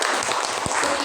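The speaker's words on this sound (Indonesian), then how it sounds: "tepuk tangan untuk kelompok" A class applauding a student group after their presentation, steady dense clapping from a roomful of people, moderately loud and continuous.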